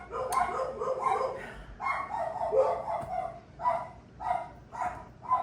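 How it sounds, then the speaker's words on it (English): A Chihuahua barks sharply and other dogs join in, a cluster of small yappy barks and yips in quick bursts, moderately close. "The Chihuahua decides that something is off, starts barking. Everybody else does too."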